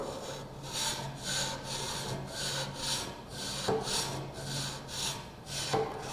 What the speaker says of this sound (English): even pressure is applied alternately as you pull and push over the work